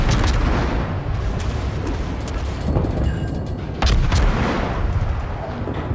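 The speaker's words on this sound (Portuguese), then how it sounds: "Nossa, dá uns tiros aí." Naval gunfire in the game World of Warships, played with a Benson destroyer, sounds as heavy booming cannon shots over constant rumbling battle noise, with several loud blasts spaced irregularly and a strong one near the middle.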